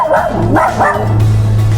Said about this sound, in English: There's Abby, the dog.